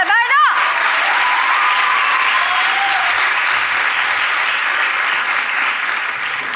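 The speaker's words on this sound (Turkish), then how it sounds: "Alkışlarınızla Berna!" A crowd bursts into loud, sustained applause for a singer appearing on a Turkish singing show, filling the whole stretch. A brief rising voice is heard at the start.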